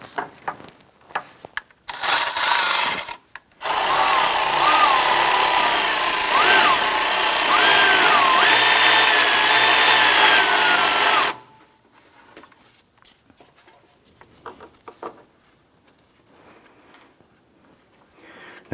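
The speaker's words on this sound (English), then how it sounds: "I'm going to go ahead and tighten the horizontal bolt" A power tool spins as it tightens the belt adjuster bolt on a 2001-2005 Honda Civic engine. It gives one brief whir, then a steady loud whine lasting several seconds, followed by quiet clicks of handling.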